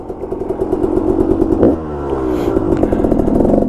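A Yamaha TW200 motorcycle revs and rides along a Colorado dirt trail, its single-cylinder engine chugging loudly and close, pitch dropping at a gear change and then building again as it pulls away.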